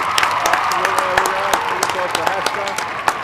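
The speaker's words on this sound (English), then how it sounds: "one more round of applause for Hester" Steady applause from an audience, dense clapping throughout with a few sharper claps standing out, and some voices mixed in.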